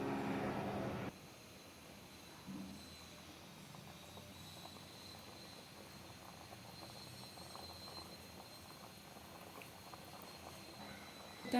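Kodo millet simmering in a pot of coconut milk and water gives a faint, steady bubbling and soft patter that runs throughout, with a brief louder stretch at the very start and no voices.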